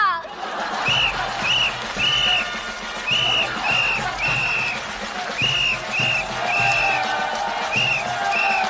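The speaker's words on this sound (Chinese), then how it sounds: "接下来就让我们掌声欢迎他们出场" A studio audience applauds to welcome candidates onto the stage during a comedy sketch on a Chinese variety show. Steady, dense clapping runs throughout, with bright repeating whistle-like tones and music layered on top.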